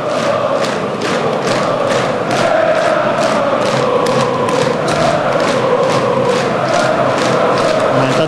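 A stadium crowd at an Arka versus Beroe football match sings and claps together in a steady rhythm, each clap landing on a regular beat over a loud, continuous wash of voices.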